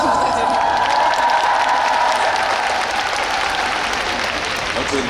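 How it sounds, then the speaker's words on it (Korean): A crowd at an open talk at the Busan International Film Festival, with actor Lee Joon-hyuk present, claps in dense, sustained applause with some cheering. It stays loud and even throughout under a faint steady tone. "여러분 박수 한번 부탁드립니다."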